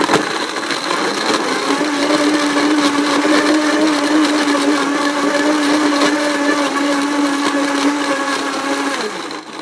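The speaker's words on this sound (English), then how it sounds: "And then we blend." A blender whirs steadily while blending a potato vodka cocktail for a 1951 Bloody Caesar-style recipe, a loud continuous motor drone holding for about nine seconds before winding down at the end.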